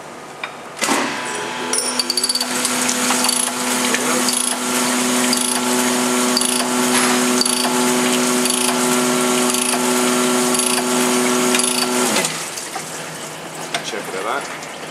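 Honing the cylinder bore of a Nissan VG30DETT engine block with a torque plate bolted on, a steady whirring grind with a sustained tonal whine that starts abruptly, runs for about eleven seconds, then stops.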